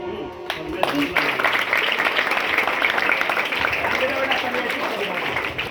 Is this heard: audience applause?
yes